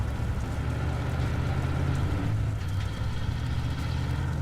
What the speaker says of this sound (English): sometimes when you stop the trucks earlier, it still does the engine noises